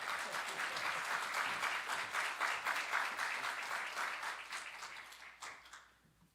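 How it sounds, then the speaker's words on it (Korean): Sustained applause from a congregation at a university chapel worship service, steady and fairly full for about five seconds before thinning out and fading away at the end. "여러분 박수 한번 하도록 하겠습니다."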